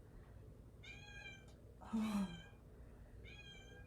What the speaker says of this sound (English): meowing at the door to come in